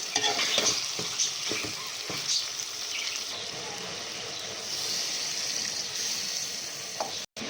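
Potatoes and radish frying in a pan for a vegetable dish, a steady broad sizzle with repeated scraping stirs of a spoon near the start, continuing evenly close up with no talk.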